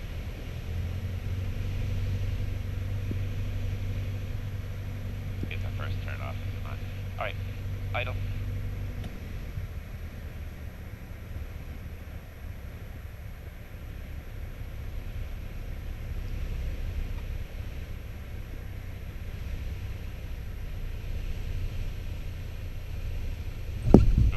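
A small airplane rolling down the runway with the engine brought back near idle: a steady low engine drone with wind rush, easing down after several seconds, while people talk over the intercom and radio.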